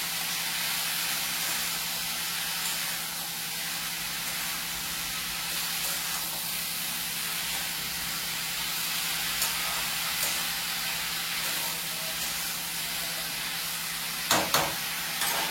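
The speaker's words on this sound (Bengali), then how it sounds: "এবার আমি না এটা ঢাকা দিয়ে দেবো, ঢাকা দিয়ে দিয়ে রান্না করবো।" Food cooking in a pan under a lid, giving a steady close hiss and soft sizzle that runs evenly throughout, with a couple of brief clatters near the end.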